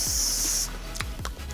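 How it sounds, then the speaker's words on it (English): A face mist spray bottle gives one close, sustained bright hiss lasting about two-thirds of a second, followed by quieter handling noises. "I'm going to spray this one now"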